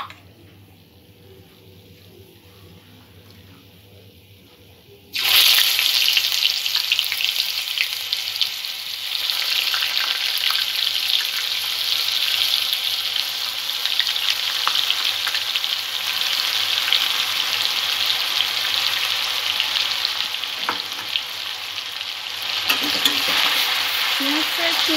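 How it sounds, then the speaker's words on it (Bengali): Onion, ginger and garlic paste hits hot oil in a pan after a quiet start, bursting into a loud, steady sizzle that carries on continuously with occasional stirring scrapes. "ফোড়নের সুগন্ধ আসতে শুরু করলে পেঁয়াজ আদা রসুনের পেস্টটা এতে যোগ করে দেব"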